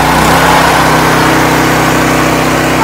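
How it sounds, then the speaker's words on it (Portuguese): A tractor engine rises in revs to drive a crop sprayer, a loud, steady mechanical drone filling the whole stretch with no pause or talk. "cresce o giro do motor"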